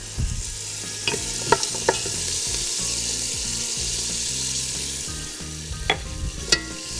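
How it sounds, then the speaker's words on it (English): Vegetables for lasagna sizzling in a hot pan, a loud, steady hiss heard up close. A spoon scrapes and taps against the pan several times near the start and again near the end. "you stir it after every ingredient so it can get its little 15 seconds of fame"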